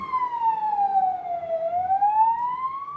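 A wailing emergency siren sweeps down and back up in pitch, fairly clear but at a moderate distance, with no one talking.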